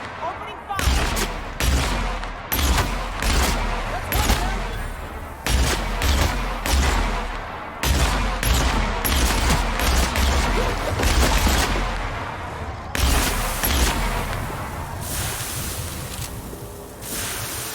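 Gunfire in the video game The Outer Worlds, a loud sequence of sharp shots and bursts coming in clustered volleys with brief gaps, blasts overlapping into a noisy roar, with voices shouting at moments.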